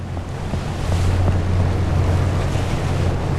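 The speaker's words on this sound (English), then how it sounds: "2 or 3 meter rolling waves." Rolling sea waves of two to three meters wash around a boat at sea, a loud continuous rushing roar mixed with buffeting wind noise on the microphone, with no voices.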